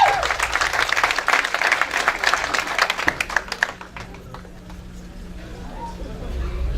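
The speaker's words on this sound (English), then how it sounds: "Can we give a hand of applause to the coordinators of this project?" An audience at a community gathering breaks into loud applause for the project coordinators, dense clapping that thins out into scattered claps and fades after a few seconds, leaving quieter room noise and a distant voice.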